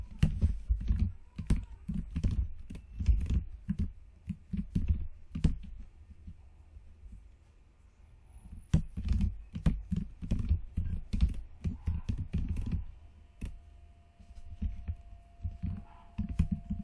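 Typing on a computer keyboard while entering a Python program, a steady run of close, quick key clicks with short pauses, alone with no voices.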